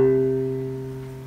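A piano overtone rings from a silently held key after a lower note is struck, producing a soft sustained harmonic hum that slowly fades away, heard alone without any talk.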